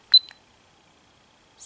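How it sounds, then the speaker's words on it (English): A phone camera's shutter, fired remotely through a Polaroid wireless transmitter, gives a short, crisp double click near the mic, followed by silence and then a faint hiss at the end. "Also, I can use this as a remote shutter."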